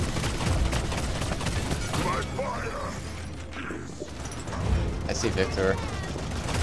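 Gunfire and ability effects in the shooter Paladins, a dense stream of rapid shots and mechanical clatter with someone talking briefly over the action.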